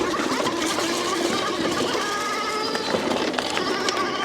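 A Bafang 1000W mid-drive e-bike motor whirs under throttle as a steady close mechanical whine mixed with wind and riding noise, without a break.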